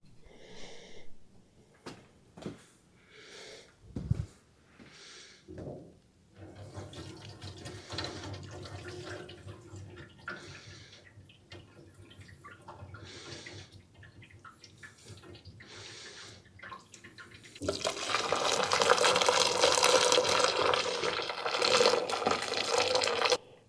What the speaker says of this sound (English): Pour some hot water in there.